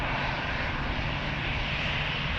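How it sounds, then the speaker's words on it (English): A Croatia Airlines Airbus takes off from runway 36L at Amsterdam Schiphol, its jet engines making a loud, steady, broad roar close by that fills the whole moment without any talking. "Airbus taking off in front of us."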